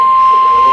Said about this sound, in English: This is a test of the National Weather Service weather radio warning alarm